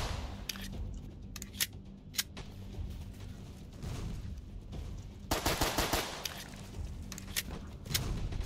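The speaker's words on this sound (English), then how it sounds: "Yes, come to the other side and shoot them." Rapid bursts of gunfire in the Roblox game Dead Ahead, an irregular mix of single shots and automatic volleys, fairly faint over a steady background rumble.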